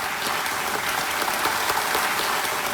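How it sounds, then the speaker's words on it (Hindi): Studio audience on the quiz show Kaun Banega Crorepati breaks into dense, steady applause, a continuous wash of many clapping hands at even loudness with no voices over it. "इन सब के लिए जोरदार तालियां"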